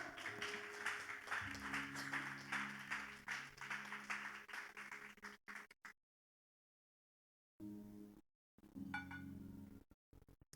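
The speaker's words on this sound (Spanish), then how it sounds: "Dele un aplauso al Señor." A church congregation applauds in a long stretch of steady clapping, then drops to silence before brief bursts of clapping resume.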